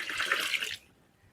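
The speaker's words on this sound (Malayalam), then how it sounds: "10 ഇരട്ടി വെള്ളം ചേർക്കാം കേട്ടോ" Water is poured into a container to dilute ground fertilizer for tomato plants, a close, splashing gush lasting under a second before it stops and leaves quiet.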